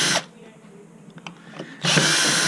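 A power tool drives out the screws of a bracket during a battery lead replacement, whirring loudly up close in two short bursts with a quieter stretch of handling between them.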